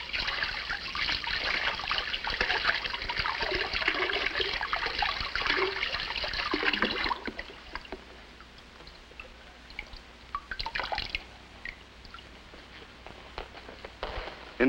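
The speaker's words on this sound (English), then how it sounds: "we can simply hose it off" Water from a hose sprays and splashes over Mylar insulation, a loud hissing rush for about seven seconds that drops to faint dribbling and scattered drips.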